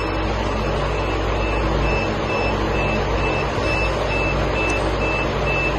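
An egg incubator machine gives short, evenly spaced beeps before it turns the eggs. The steady beeping sits under a loud, constant mechanical hum.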